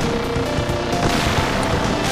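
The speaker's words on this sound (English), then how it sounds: "the entire screen is just one big explosion" Dense, continuous barrage of overlapping explosions from the Sega Genesis game Gunstar Heroes, loud booming blasts packed together with no pauses.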